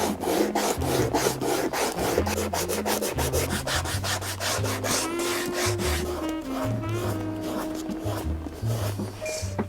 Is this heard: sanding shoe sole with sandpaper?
yes